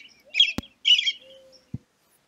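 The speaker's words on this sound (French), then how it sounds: "C'est un oiseau qui a un chant que l'on entend très tôt le matin." Song of a red-winged blackbird: two short, buzzy, raspy bursts followed by a thin held note, with a couple of sharp clicks, brief and close in a quiet setting.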